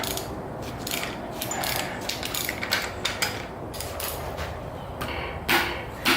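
Half-inch ratchet working a bolt on a Mazda Miata engine during teardown, a close run of rapid clicking pawl strokes in uneven bursts with a few louder knocks near the end.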